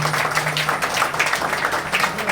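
An audience applauds at a devotional bhajan evening, a continuous close wash of clapping that fills the short moment and stays dense from start to finish.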